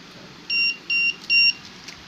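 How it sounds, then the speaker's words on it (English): An RFID card reader rejects an unrecognized card with three short, clean electronic beeps in quick succession, standing out over a quiet room hum. "it will say unrecognized entry and 3 beeps for that one"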